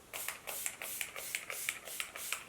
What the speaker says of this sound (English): I'm going to set it just now with, again, the Insta Fix and Go spray.